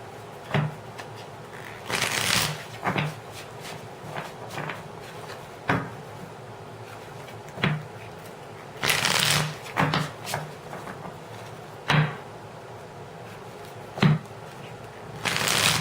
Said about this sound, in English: Long shuffle, Gemini.